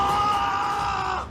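A man gives a sustained, strained scream of anger, loud and steady for just over a second before it trails off, with no other sounds.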